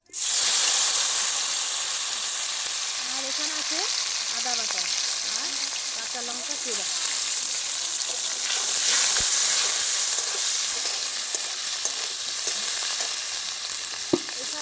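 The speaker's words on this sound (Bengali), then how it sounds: "এবার আমি ফোড়ন দিয়ে দিচ্ছি ফোড়নে আছে আমার দুটো এলাচ থেতো করে নিয়েছি একটা লবঙ্গ আর এক টুকরো দারচিনি আর আছে তেজপাতা আর জিরে" Crushed cardamom, clove, cinnamon, bay leaf and cumin crackle and sizzle steadily in hot oil, a close, continuous frying hiss with occasional stirring scrapes and no talking.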